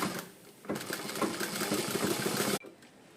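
Sewing machine stitching the back knot of a blouse, a steady loud mechanical whir that runs continuously for about two seconds and then cuts off abruptly, leaving quiet room tone.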